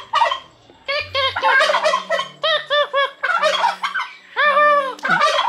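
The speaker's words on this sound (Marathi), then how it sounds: "तर ते टर्कीज आहे ना, टर्की आहे भाई" Several turkeys gobble loudly and close by in repeated rapid bursts, one call after another with short gaps between them and no talking.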